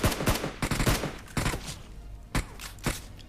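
Gunfire in a battle royale shooter game, a few sharp broadband bursts in quick clusters followed by scattered single shots, fairly loud and close with no talking over it.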